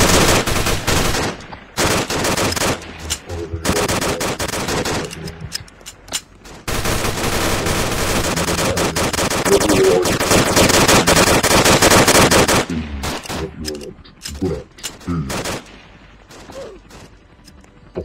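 Gunfire in the Roblox game Armored Ship Battles: loud, dense machine-gun bursts and rapid repeated shots, with long sustained stretches and brief pauses, close and dominant throughout.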